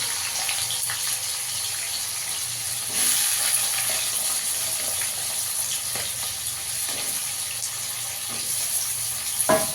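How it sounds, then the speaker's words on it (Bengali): Cut potatoes fry in white cooking oil in a pan, giving a steady, close sizzle with occasional brief bursts of louder crackle. "আলুটা দিয়ে একটু ভেজে নেবো ভালো করে।"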